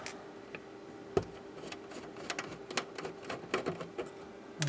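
Screws removed from the cover of a Keithley 2425 100W SourceMeter, with a steady low electrical hum and scattered small metallic clicks and ticks from a screwdriver, close and quiet, with no talking.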